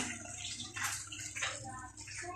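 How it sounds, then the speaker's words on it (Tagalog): Hot water splashes and gurgles in a brief, steady pour over bok choy being blanched in a home kitchen. "bubuhusan ko lang yun ng mainit na tubig"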